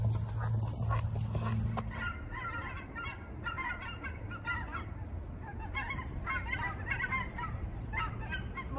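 Ducks calling outdoors near a pond, a busy stretch of repeated honking quacks from several birds at moderate distance over a low background rumble.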